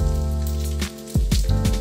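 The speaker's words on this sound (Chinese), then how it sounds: "关了火还能听到肉在锅里滋滋啦啦的声音" Lamb ribs sizzle in a dry pot after the heat is turned off, giving a crackling hiss that comes in bursts alongside a steady tonal backdrop.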